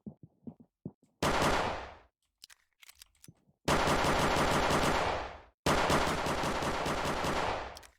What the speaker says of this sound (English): Ooh, an AK. This is a Roblox game, man.